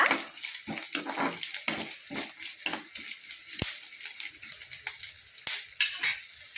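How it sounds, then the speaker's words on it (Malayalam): Grated coconut sautéed in a pan with garlic, green chilli, curry leaves and coriander leaves for a Kerala beef olathiyathu curry, close-up with repeated scraping stirs over a soft, steady sizzle and no voices. "വെളുത്തുള്ളി പച്ചമുളക് കരിയാപ്പല മല്ലിച്ചപ്പ് അങ്ങനെയുള്ള എല്ലാ സാധനങ്ങളും ആദ്യം തേങ്ങ വഴറ്റിയെടുക്കുക"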